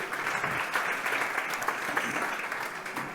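An audience applauds during the panel introductions at a conference on artificial intelligence in higher education, a steady burst of clapping throughout.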